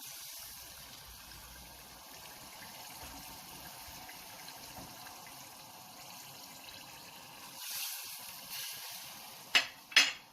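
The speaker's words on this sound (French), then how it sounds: "je vais rajouter encore un peu d'eau" Water is poured into a pan of simmering five-spice crab and potatoes, a soft continuous sizzle and bubbling near the mic that swells into louder splashing pours toward the end.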